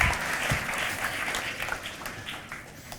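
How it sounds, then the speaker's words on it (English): During a magic and mind-reading stage show, the audience bursts into loud, continuous applause as a volunteer walks on stage. The clapping fades slightly toward the end. "Can we have a round of applause, please, as he comes on stage?"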